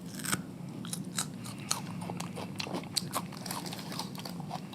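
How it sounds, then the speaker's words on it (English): Biting into and chewing a spicy birria taco topped with onions, cilantro and radish. The crunches and crackles repeat irregularly, close and moderately loud, with no speech. "I'll take a bite though."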